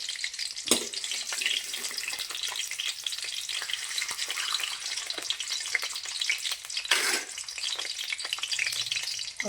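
Sliced onions deep-fry in oil for biryani birista, a dense, loud, bubbling sizzle that runs continuously, punctuated by two sharp bursts of crackle from stirring.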